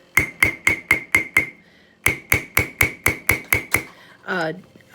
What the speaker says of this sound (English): I'm going to tap on this with my chasing hammer all around it